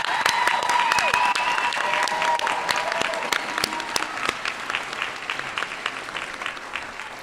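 Audience applause for graduates at a school district online academy graduation ceremony, a dense, steady round of clapping from a large crowd that begins strongly and gradually thins toward the end.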